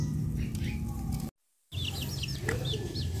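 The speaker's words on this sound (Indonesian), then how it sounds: "Dan ini burung sogon ya" A caged sogon bird gives a quick series of short, high chirping notes over steady background hum, with a brief silent break partway through.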